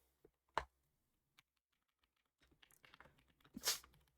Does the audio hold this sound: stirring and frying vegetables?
no